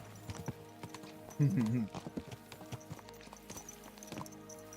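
Horse hooves clip-clop at a steady trot in the video game Kingdom Come: Deliverance 2, beneath the game soundtrack, with a voice speaking over the rhythmic hoofbeats.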